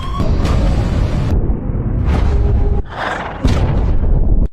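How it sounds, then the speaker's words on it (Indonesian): A torpedo explosion on the seabed in a film: deep, heavy booming rumbles with several sharp blasts breaking through, loud and dense from start to finish, with no talking. "mendeteksi adanya sinyal ledakan dari dasar laut"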